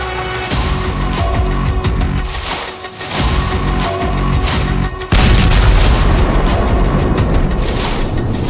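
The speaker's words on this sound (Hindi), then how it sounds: "खुर्रमशहर 4 जिसे खैबर भी कहते हैं, उसका धमाका देखिए।" Loud, rumbling blasts and booming roar from an Iranian Khorramshahr-4 (Khaibar) missile explosion, with a sharp surge partway through as the explosion grows heavier and continues thundering.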